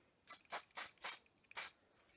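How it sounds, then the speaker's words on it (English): Five short hissing bursts of hairspray from an aerosol can, close by, each lasting about a quarter second with brief gaps between them. "And just give it a wee spray."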